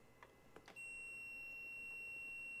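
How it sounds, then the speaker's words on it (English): A Dreamcast VMU gives a single high, sustained electronic beep when a Retro Fighters StrikerDC controller is plugged in, following a few soft handling clicks, quiet and close. "You can hear the beep, which means the controller is on, or the VMU"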